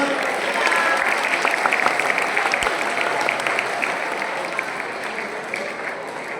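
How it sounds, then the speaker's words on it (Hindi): Children clapping for themselves at a youth group gathering, a steady, dense patter of many hands that carries on throughout at an even level, with no talking. "अपने लिए ताली बजा दो बेटा।"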